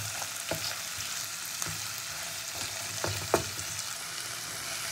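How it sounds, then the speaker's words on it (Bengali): Chopped tomato frying with onion in a pan, a steady sizzle with a few sharp stirring clicks and scrapes spaced through the clip, with no voices. "টমেটোটাও পেঁয়াজের সঙ্গে খুব ভালো করে ভেজে নেব।"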